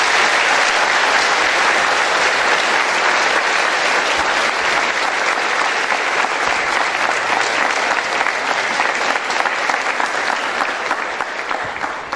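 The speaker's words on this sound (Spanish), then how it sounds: "démosle un fuerte aplauso." A large congregation at a Catholic Mass for diocesan clergy in Estelí applauds steadily and loudly, dense clapping sustained throughout with no pauses, fading slightly at the very end.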